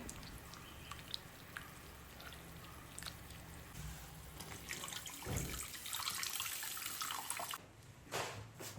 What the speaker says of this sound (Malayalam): ഈ പുളി നമ്മൾ പിഴിഞ്ഞ് ഒന്ന് ഒഴിച്ചു കൊടുക്കേ